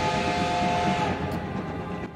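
A steam train leaving for Central in an anime episode sounds a sustained whistle over a rumbling, rolling train, with the whistle dropping away partway and the rail noise carrying on.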